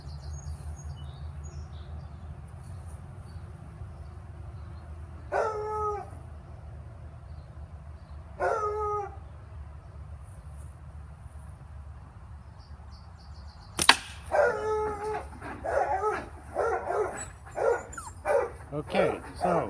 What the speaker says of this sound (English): And the dog's going crazy.